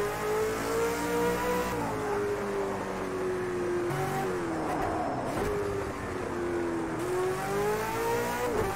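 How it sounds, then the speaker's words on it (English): A powerful race car in the Project Cars 2 video game drives steadily with a continuous engine drone and a high whining gearbox squeal that rises and dips with throttle changes, loud and close throughout with no talk. "Gotta love that gearbox squeal too, it just sounds amazing."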